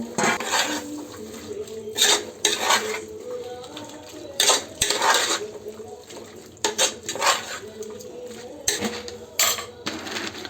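Vegetables being mixed with masala in a pot for veg pulao, with repeated scraping and clanking of a spoon against the metal pot in irregular bursts, close and fairly loud.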